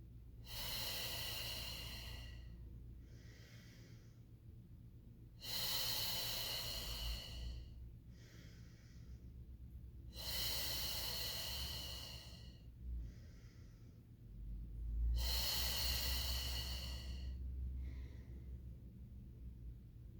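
Slow, deep breathing in a Pilates mat class: four long, loud exhales at a steady pace, each followed by a shorter, softer inhale, with no talking.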